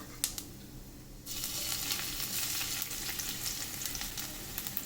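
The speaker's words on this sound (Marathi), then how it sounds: "तेल तापलेलं आहे त्यात आपण पहिल्यांदी मोहरी घालूया" Mustard seeds, cumin and crushed garlic dropped into hot oil in a pan, a sudden loud crackling sizzle that starts after a quiet moment and keeps spitting steadily, close by with no talking.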